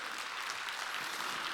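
A church congregation at a Wednesday worship service claps together in a brief, dense, even burst of applause with no voices standing out.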